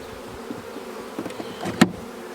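A honey bee swarm buzzes close by with a steady, dense drone, broken by a few sharper knocks and a brief loud scrape near the end.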